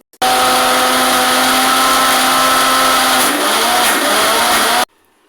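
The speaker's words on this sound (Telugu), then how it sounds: "ఆడించుకోవాలి మిక్సీలో" A loud, steady whirring of a mixer grinder grinding tomato and peanut chutney for several seconds, its pitch dropping slightly before it cuts off abruptly.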